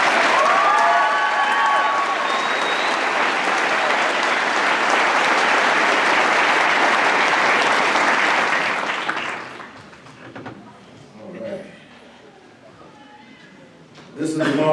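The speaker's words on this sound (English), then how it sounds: "Let's give a big round of applause for all of our award winners" A large audience applauds award winners at a graduation ceremony for a police or sheriff's academy cadet class, a loud sustained wash of clapping for about nine seconds that fades into quieter room sounds and a few scattered claps.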